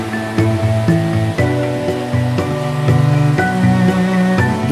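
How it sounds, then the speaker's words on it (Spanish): Steady rushing roar of the Carabela waterfall on the Borosa river trail in the Cazorla mountains, loud and continuous, with background music over it. "protagonizado por la inconfundible cascada de la Carabela"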